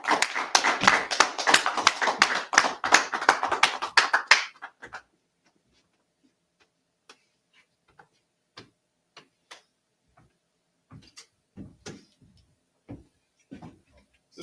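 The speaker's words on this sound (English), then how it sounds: "Clap it up." Scattered hands clap for a brother's class at a brotherhood gathering, a loud dense burst of applause for about four seconds that stops abruptly, followed by sparse isolated claps and faint taps.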